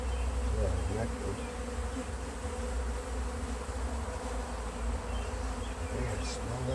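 Honey bees swarm during an inspection of a tall skyscraper-style hive box, a dense, steady buzzing hum that fills the whole stretch close up, with no speech over it.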